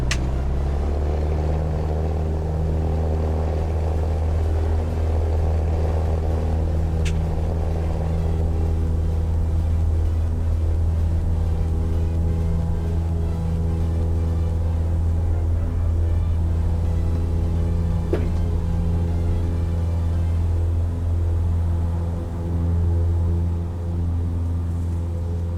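Cessna Skyhawk propeller engine in a flight simulator game, flying around the Louisville area: a loud, steady droning rumble with a constant pitch that holds unbroken throughout, with no talking.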